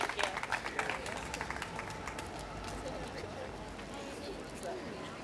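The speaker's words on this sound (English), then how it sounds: "Let's give them another round of applause." An audience at a community celebration applauds, with sharp, close claps at first that thin into a softer, sustained patter and murmur of the crowd.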